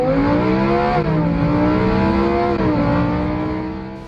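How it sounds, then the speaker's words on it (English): Car engine heard from inside a moving car, a steady harmonic hum that rises and dips gently with speed changes, close and continuous, with no talk over it. "Now I'm gonna hop back in the car with Christian"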